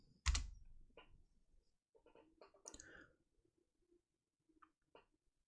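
Sparse keystrokes on a computer keyboard typing a build command, a sharp first clack followed by quieter scattered clicks in a quiet room, no talking.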